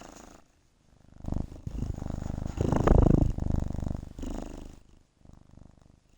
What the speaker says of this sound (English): Sam's purring right now because he's in Mama's lap.